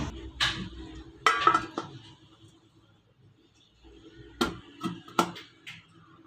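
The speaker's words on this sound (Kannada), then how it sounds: "ಬ್ಯಾಟರ್ ಇರುವ ಬೌಲನ್ನು ಇದರ ಮೇಲೆ ಇಟ್ಟು" A bowl of Oreo choco lava cake batter is set down inside a pan on low flame, giving a few sharp metallic clanks and knocks, separated by quiet pauses.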